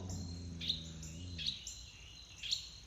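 Noisy birds chirping in a backyard, with three short, sharp high calls spaced about a second apart over a faint low hum; no talking.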